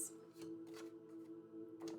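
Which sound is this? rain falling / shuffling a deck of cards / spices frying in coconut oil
shuffling a deck of cards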